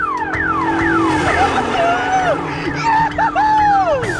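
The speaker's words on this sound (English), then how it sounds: "That car alarm might have been exactly what caught the walkers' attention when they attacked the camp." A car alarm blares in a scene from The Walking Dead, a looping electronic siren with repeated rising and falling sweeps, loud and close, running continuously over a busy background of other sound.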